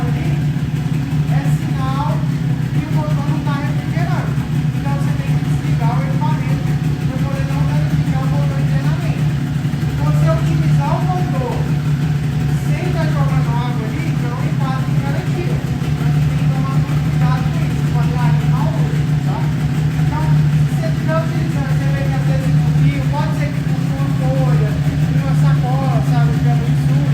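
A 30 HP outboard boat motor idles in a steady, loud, continuous drone with an even low hum throughout and no clear changes in speed.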